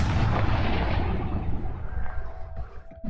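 A Confringo explosive spell from Hogwarts Legacy bursts with a loud, booming blast that rumbles and fades over a few seconds, followed by a few softer pops.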